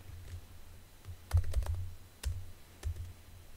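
Typing on a computer keyboard in a quiet room, a few scattered soft key clicks and a short quick burst of taps, close but faint, with no voices.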